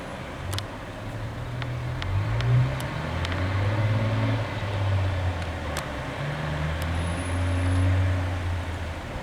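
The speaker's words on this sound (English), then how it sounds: "a lot of cars are coming up here now" Steady low road rumble of several cars passing on an Italian road, recorded from inside a moving car, with engine swells rising and fading continuously and no talk.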